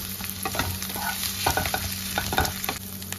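Shrimp and ground kharkol leaf paste stirred in hot oil make rhythmic scraping strokes over a steady, close sizzle, with no voices.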